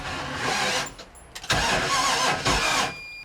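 A big block boat engine cranks over on its starter battery in two sustained bursts with a brief pause between, churning loud and close.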